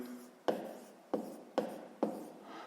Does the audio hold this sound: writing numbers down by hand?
yes